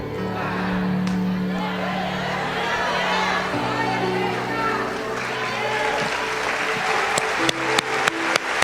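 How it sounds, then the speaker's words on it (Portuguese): Applause in a church congregation during a sermon, a broad wash of clapping and crowd noise under steady sustained music tones, ending with a few sharp, distinct claps near the close. "Esse aplauso é para o Senhor Jesus"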